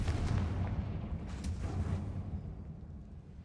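Fiery Confringo spell blasts in the Hogwarts Legacy video game, a loud rumbling low-end burst with crackling debris that rolls on and slowly fades over a few seconds, no voices.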